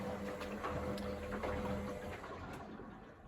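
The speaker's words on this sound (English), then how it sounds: "So it started draining out before it did any spinning" An Indesit WIDXL126S washing machine draining water before its spin, with a steady pump hum and the muffled rush of water running through it, moderately loud and continuous, fading slightly at the end.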